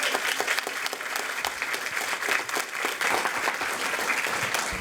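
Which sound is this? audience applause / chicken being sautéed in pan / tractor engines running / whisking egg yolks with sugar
audience applause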